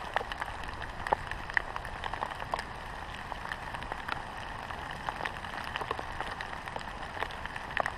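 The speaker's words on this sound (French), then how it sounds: "je pense qu'il pleut jusqu'à midi" Steady light rain pattering on surfaces beside a carp fishing spot, soft and constant, with scattered sharper drops tapping throughout and no voices.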